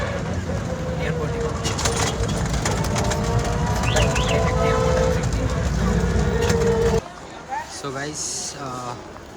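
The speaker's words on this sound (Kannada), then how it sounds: "ಇದು ನನ್ನ ಡೆಲ್ಲಿಯಲ್ಲಿ ಕೊನೆಯ ಮೆಟ್ರೋ" A Delhi metro train rumbles and hums loudly at close range, with people talking over it and birds chirping, before the noise drops suddenly near the end.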